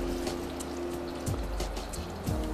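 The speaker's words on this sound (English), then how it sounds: "When the heat is still low, we will add a nice clean water" Clean water poured into a pot of vegetables for homemade vegetable stock, a steady trickling splash close by over low hum, with a couple of brief gurgling surges.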